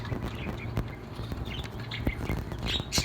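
Three budgerigar chicks in a nest give dense, overlapping chirps and squeaky calls, close and continuous over a steady background.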